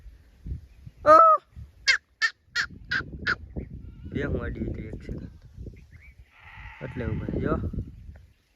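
Goats grazing in a forest bleat in several short, wavering calls, some near and some farther off, mixed with someone talking nearby.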